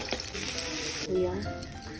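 Ground spice paste sizzles in hot tempering oil, a close, continuous hiss with stirring scrapes and a louder burst midway, while someone talks over it.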